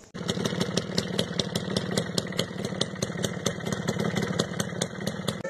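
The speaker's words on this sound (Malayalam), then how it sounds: "ഈ ടു സ്ട്രോക്ക് പെട്രോൾ എഞ്ചിൻ നഗരത്തിലെ ഉപയോഗത്തിന് വേണ്ടിയിട്ട് ട്യൂൺ ചെയ്തിട്ടുള്ളതാണ്" A Suzuki Shogun 110cc two-stroke petrol motorcycle engine runs at a steady idle, a fast, even buzzing putter with a rattly edge, close and alone without talk.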